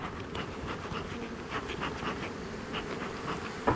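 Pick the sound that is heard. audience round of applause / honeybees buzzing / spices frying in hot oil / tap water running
honeybees buzzing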